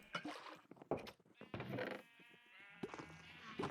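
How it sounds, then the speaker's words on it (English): Sheep bleating on a farm in a video game, several short nasal bleats in a row at moderate loudness, mixed with other game sounds. "And then over here we got a sheep farm."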